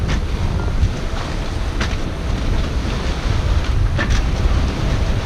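Wind buffets the microphone steadily while a sailboat runs on a beam reach at sea at night in 10 to 15 knots of wind, with loud continuous rushing and water wash beneath.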